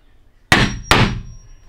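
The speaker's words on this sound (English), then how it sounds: "Every once in a while you get a hammer that rings like that when you use it." A new hammer struck twice, each blow giving a sharp bright ringing clang that decays quickly, close and loud, with a short gap between the hits during drywall work on a home addition.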